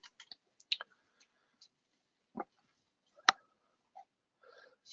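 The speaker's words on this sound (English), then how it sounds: "If we click OK" A computer mouse clicks on an OK button, giving a few sharp, isolated clicks against near silence, with one louder click near the middle.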